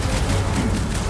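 Dense, rapid gunfire from a battle in the action game Marvel's Guardians of the Galaxy: continuous loud bursts and booming shots overlapping with no pauses.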